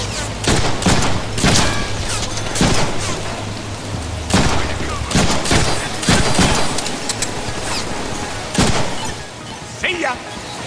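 Gunfire from the Deadpool PC video game: repeated sharp shots in irregular bursts, loud and close, mixed with game sound effects and voices.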